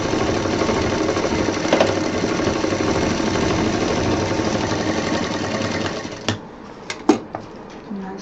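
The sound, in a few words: sewing machine stitching a handbag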